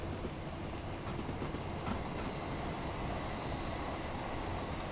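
Passing train in Train Simulator Classic on a foggy, rainy London to Birmingham line, a steady low rumble and wheel clatter, faint and continuous throughout with no talk.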